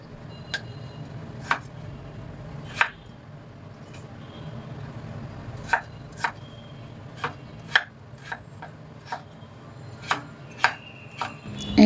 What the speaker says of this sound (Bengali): এখন আলুগুলোকে আমি কিউব সাইজ করে কেটে নেব।